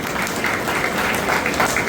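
Steady applause from a sizeable crowd at a church Independence Day event, a dense wash of clapping that holds at an even level throughout without breaks.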